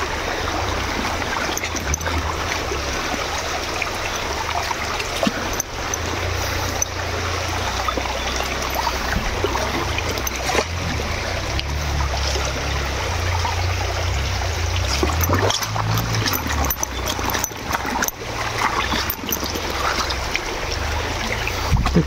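Water from a river stream, where small fish are being scooped with a net, flows and trickles steadily and close by, a continuous rushing babble with no talk.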